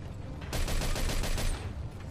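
Gunfire in Mafia 2 erupts suddenly as a rapid automatic burst lasting about a second, loud and dense, then trails off into a fading rattle.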